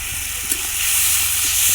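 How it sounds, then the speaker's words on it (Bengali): Ground spice paste of chilli, turmeric and cumin poured into hot oil for a Bengali fish curry, giving a loud, steady hiss and sizzle that runs unbroken and then cuts off abruptly near the end. "এই মশলাটা আমি এবার ঢেলে দেবো"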